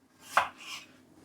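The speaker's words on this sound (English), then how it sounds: "So I'm just going to go ahead, remove the top off and slice them into 3 sections" A knife slices through a firm strawberry on a board, a single crisp cut landing with a soft thud, followed by a fainter second slicing sound in a quiet room.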